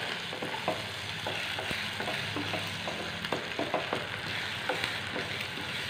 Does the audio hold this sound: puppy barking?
no